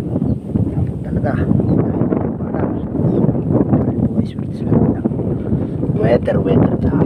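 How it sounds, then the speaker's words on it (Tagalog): Strong wind buffets the microphone on a boat while fishing out on the water near Morong, Rizal, a steady loud rushing roar with gusts, and someone talks over it. "Hangin po talaga."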